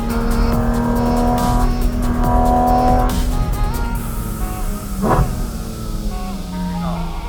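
A Porsche Cayman GT4 RS drives a winding Swiss Alpine pass, its engine droning steadily and loudly with pitch shifts as it changes speed, and a brief sharper burst midway; a faint voice may sit underneath.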